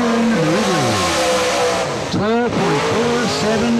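A number 81 Monte Carlo race car laps a speedway during qualifying, its loud engine note rising and falling through the gears with tire noise as it passes near, while an announcer talks over it.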